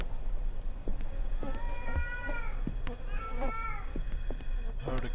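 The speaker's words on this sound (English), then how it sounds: "heard a cat?" A video game cat meows repeatedly in drawn-out, wavering cries amid a steady background hum, with clicks and short noises between calls.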